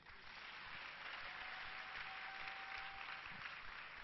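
A church congregation applauding, a dense, even wash of clapping sustained throughout, heard from some distance and fairly faint, with a faint steady tone running underneath.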